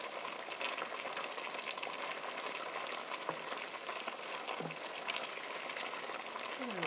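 Chicken pot pie gravy bubbling at a gentle simmer in a pot, a soft steady crackle of fine bubbles with a few small pops, quiet and continuous throughout.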